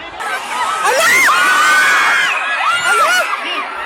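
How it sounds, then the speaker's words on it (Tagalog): Students at a flag raising ceremony at Matanao National High School in Davao del Sur scream in fear during an earthquake, a loud, dense crowd of overlapping shrieks and wails that swells and persists throughout. "umuga ang lupa na puno ng hiyaw ng takot ang flag raising ceremony"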